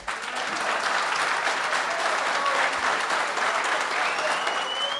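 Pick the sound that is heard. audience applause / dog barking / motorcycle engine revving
audience applause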